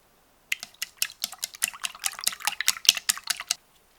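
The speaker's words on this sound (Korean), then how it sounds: "팽이버섯은 적당한 크기로 찢어가며 씻고 물기를 뺀다" Enoki mushrooms are torn apart and rinsed, a rapid irregular series of close, crisp wet taps and splashes for about three seconds, alone with no talk.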